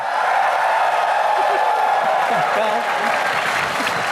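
A studio audience applauds and cheers in a dense, steady wash of clapping, with voices mixed into the crowd noise throughout.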